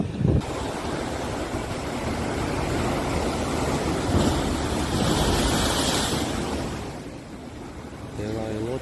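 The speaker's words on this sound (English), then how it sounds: "The waves tore a sheet from their piers and they crashed against them." Storm-driven sea waves crash against piers during a powerful storm on the Turkish coast, a continuous roaring surge with heavy wind noise throughout, louder pounding swells around the middle and a brief lull near the end.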